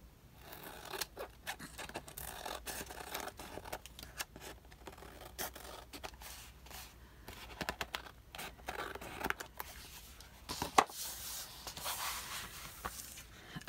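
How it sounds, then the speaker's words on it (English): Scissors snip the edges off a printed paper collage page at a craft table, quiet close crisp snips in irregular runs with pauses between them. "let me cut off the edges"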